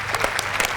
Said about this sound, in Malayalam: അവിടെ എന്നാ കൈയടിച്ചേ.